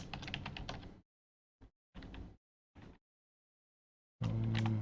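Fast typing on a computer keyboard during a C# coding session comes in several bursts of rapid keystrokes separated by short pauses.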